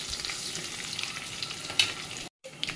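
Mustard seeds, cumin, asafoetida and curry leaves sizzle and crackle in hot oil for a tempering, a close, steady frying hiss with stirring and a few sharp pops, briefly cut to silence near the end.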